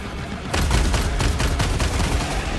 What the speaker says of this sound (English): My machine gun already brings all the boys to the yard